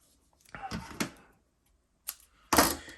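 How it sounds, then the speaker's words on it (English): Double-sided adhesive tape being pulled and pressed onto foam core board, heard as a few short, crackly bursts in two clusters separated by a quiet pause. "I'm just going to use some adhesive tape."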